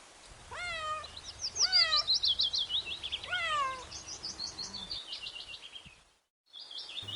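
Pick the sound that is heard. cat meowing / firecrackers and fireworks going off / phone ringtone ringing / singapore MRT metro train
cat meowing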